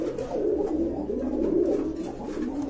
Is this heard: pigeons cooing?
yes